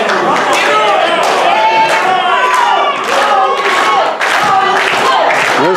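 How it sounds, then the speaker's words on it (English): A wrestling crowd cheers for Tyler Jaxx at an RSW show, loud rising chants and shouts filling the arena in repeated surges, with commentary voices mixed in. "This crowd firmly behind Tyler Jaxx here"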